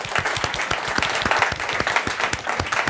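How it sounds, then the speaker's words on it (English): A conference audience at a climate action summit in London claps in a dense, sustained round of applause, many hands striking close together at a loud, even level. "give all of yourselves a big round of applause."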